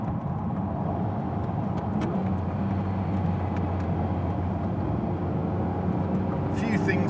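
A Noble M12 GTO-3R sports car driving and cornering on a British B road, its engine a steady, loud rumble with continuous wind and road roar throughout.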